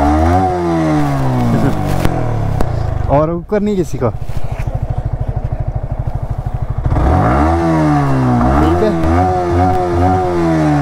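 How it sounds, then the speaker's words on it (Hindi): A Yamaha R15 V3 motorcycle engine revs up in repeated throttle blips, loud and close, with people talking over and around it. "अच्छा आप अपनी बाइक की साउंड दिखाएंगे?"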